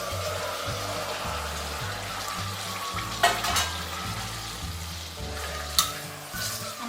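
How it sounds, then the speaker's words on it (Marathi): Goat intestine cooks in a pan with onion, ginger and garlic for an Agri-style mutton tripe masala, sizzling steadily with a couple of sharp stirring clatters over a soft, continuous tonal background. "आता ही वजरी आहे ना ते त्याच्यामध्ये घालून घ्यायची आहे"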